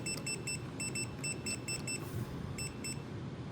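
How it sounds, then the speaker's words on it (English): Rapid high-pitched electronic beeps from a self-leveling line laser level's out-of-level alarm repeat in quick bursts, with a short pause before two more, over a faint low background hum. "the beeping alarm is telling you that it's out of the level range"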